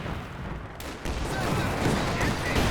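Artillery barrage in the video game Company of Heroes 2: a dense, loud rumble of overlapping blasts and explosions, continuous and booming throughout.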